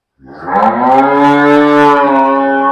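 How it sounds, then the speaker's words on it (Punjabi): A single loud, drawn-out moo from a milking buffalo, close by, rising and holding for a couple of seconds. "ਸੰਧੂ ਸਾਹਿਬ ਦੁੱਧ ਵਾਲੀ ਮੱਝ ਆ ਪਤਲੀ ਚਮੜੀ ਦੀ ਆ"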